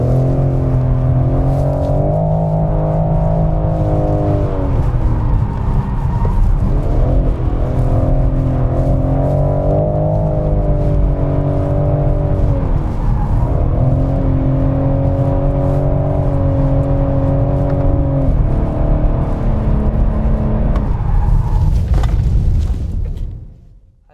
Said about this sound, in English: and now let's start the drift.